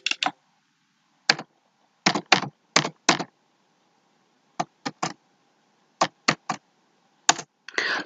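Keystrokes on a computer keyboard while text is entered into an MS Word document, coming in short separated bursts of clicks with pauses between them, close and clear with no talking.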